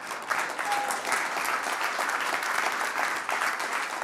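Audience applause at a Startup Grind 2013 conference talk, a sustained burst of many hands clapping at a steady level for several seconds, with no one speaking over it.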